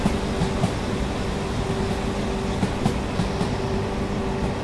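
A train on the Wakayama-Sakurai Line in Train Simulator 2019 runs with a steady rumble, faint clicking wheel beats and a low hum, loud and continuous throughout.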